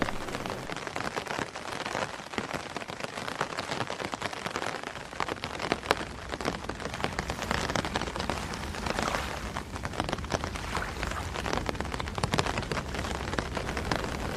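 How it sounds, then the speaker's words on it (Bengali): Rain falls steadily at night in an animated horror scene, a dense, even patter on surfaces that stays unbroken and fairly soft throughout. "সারাদিনের ভ্যাপসানো গরমের পর এ বৃষ্টি স্বস্তি না দিলেও আরও ভীতিকর পরিবেশ সৃষ্টি করেছে।"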